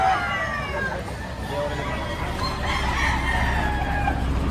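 Chickens cluck and a rooster crows repeatedly at a busy chicken market in Lipa, Batangas, with overlapping bird calls over a murmur of crowd chatter.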